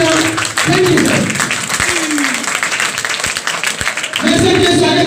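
A seminar audience breaks into applause, sustained close clapping that fills the whole stretch, with a few sharper individual claps and murmuring voices mixed underneath.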